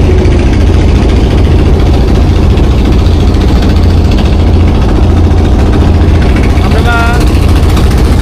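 A country boat's engine runs loud and close with a steady low rumble and vibration throughout a river ride, while people talk over it.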